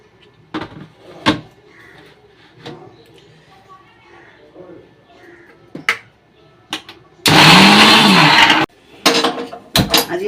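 A kitchen mixer grinder whirs through a paste of cumin, ginger, chili and garlic in one loud burst of just over a second, set among clattering utensils, door knocks and a speaking voice.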